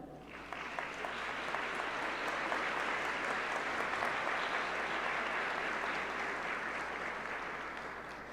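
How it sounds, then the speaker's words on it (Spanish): Warm applause from a conference audience welcoming attendees at a gender statistics lecture, swelling in quickly and holding as a dense, even wash of clapping before easing slightly at the end. "A todas y todos, TUWAIMEX les da la bienvenida con un afectivo aplauso."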